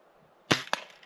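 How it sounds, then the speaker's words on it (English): Two quick sharp BB gun shots a fraction of a second apart, crisp and close against quiet outdoor background. "taking shots with a BB gun."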